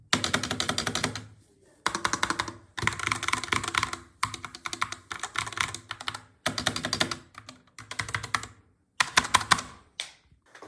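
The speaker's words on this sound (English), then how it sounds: "here's a sound test of it, completely stock, no mods done" Bursts of fast typing on a stock, unmodified Epomaker SK64 mechanical keyboard, dense clacky keystrokes in several runs separated by short pauses, close and clear with no talking.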